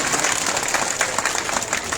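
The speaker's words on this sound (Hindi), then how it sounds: "ताली बजाकर सभी मंत्री जी का स्वागत करें" A crowd at a public inauguration event claps to welcome a minister, a brief burst of thick, close applause from many people.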